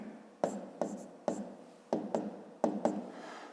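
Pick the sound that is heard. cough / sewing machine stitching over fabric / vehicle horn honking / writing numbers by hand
writing numbers by hand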